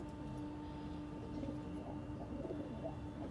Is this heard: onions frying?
no